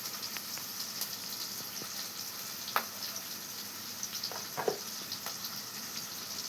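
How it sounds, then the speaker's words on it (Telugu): Green chilies frying in a pan of oil, a soft continuous sizzle with a few faint pops and clinks, moderately quiet and close, no talking. "పచ్చిమిర్చి మొత్తం అంతా ఎర్రగా వేగాలి"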